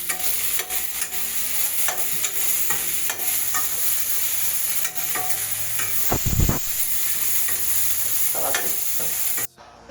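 Ingredients for a village-style chicken donne biryani fry in oil in a pot with a steady, close sizzle, broken by frequent scraping stirs and one sudden louder burst near the end.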